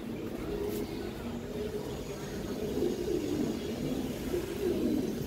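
Old-breed pigeons coo softly in a low, continuous murmur, the calls overlapping steadily over several seconds with faint background noise and occasional bird chirps.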